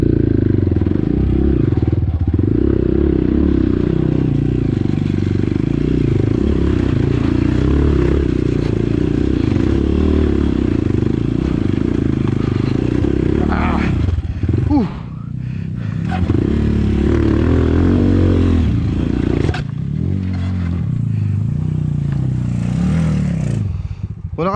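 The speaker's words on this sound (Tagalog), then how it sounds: "parang mukhang susuko yung motor eh" A motorcycle engine labors loudly under strain climbing a steep mountain road up Mt. Tapulao, Zambales, its tone rising and falling, with people talking and shouting over it.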